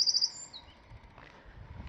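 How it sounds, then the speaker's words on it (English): Birds chirp by Home Creek at a boardwalk on the Angleworm Trail in the Boundary Waters, a short run of clear, bright high calls at the start, then faint outdoor ambience. "Some happy birds there."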